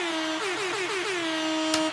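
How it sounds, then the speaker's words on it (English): A loud, blaring air horn sound effect repeats in a rapid series of short stuttering blasts, then holds one long sustained note before cutting off. "you get them sound effects, them air horns."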